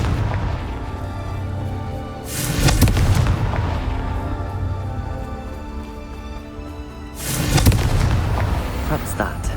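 In Hogwarts Legacy, the Confringo spell goes off twice, each a loud booming blast with a short crackling tail, over the steady ambient music and background sounds of the game.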